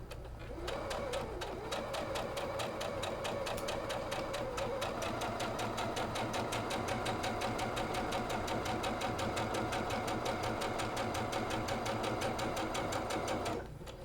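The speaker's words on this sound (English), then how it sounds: "I'm going to go to the sewing machine and I'm going to stitch down all of these lines" A sewing machine stitches down seams on quilt block pieces, running in a fast, even mechanical rhythm for about thirteen seconds before stopping abruptly.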